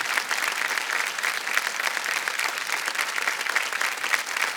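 Studio audience applause on a TV quiz show, a thick, even wash of many people clapping, loud and unbroken from start to finish.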